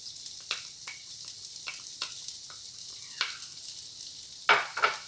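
Garlic fries in a non-stick pan over low heat in rendered fat and olive oil, a soft continuous sizzle broken by repeated scraping stir strokes and a louder spatter burst near the end.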